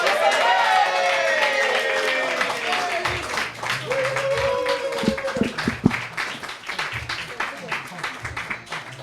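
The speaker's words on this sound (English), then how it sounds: "Keep it clapping." An audience at a storytelling and open mic night in a pub claps in rhythm, a steady patter of hands with crowd voices and someone talking over it.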